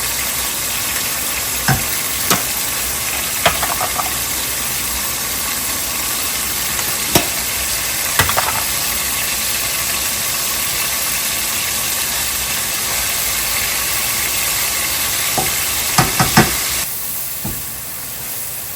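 Ground spices go into a frying pan over ginger-garlic paste, producing a loud, continuous close sizzle with a few scattered sharp taps and clicks of a spoon against the pan.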